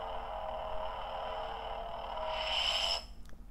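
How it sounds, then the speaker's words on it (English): A Rebel Sabers Samurai's Pride toy lightsaber hums steadily, swells into a brighter whine, then powers down and cuts off abruptly with a faint click, close by and with no talk. "To turn this lightsaber off, you hold down the button"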